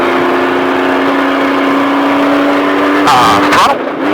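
Trophy truck engine revs back on throttle while driving a course, a loud steady roar with a rising tone, then a harsher surge near the end; an instructor's voice may sit under the engine.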